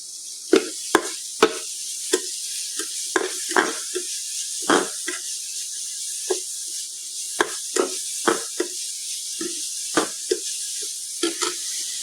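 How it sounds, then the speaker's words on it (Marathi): Chillies and tomatoes sizzle in a little oil in a pan, a soft steady hiss punctuated by repeated sharp clacks of a utensil against the pan. "सो आतां घालया मिरसांग आनी टोमॅटो वांगडाच घालता."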